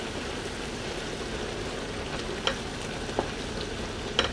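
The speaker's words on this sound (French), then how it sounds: "donc maintenant je vais mélanger." Grilled chicken drumsticks, rice and mushrooms sizzling steadily in a pan while being stirred, with a few faint clinks of the utensil against the pan near the end.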